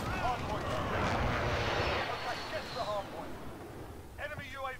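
An incoming airstrike in Call of Duty: Modern Warfare builds as a loud, sustained jet roar with booming explosions, fading after a few seconds, while a player talks over the noise.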